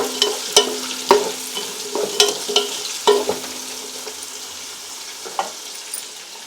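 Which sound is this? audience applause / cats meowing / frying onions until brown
frying onions until brown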